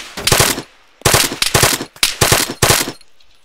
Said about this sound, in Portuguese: Vou atirar nele, hein?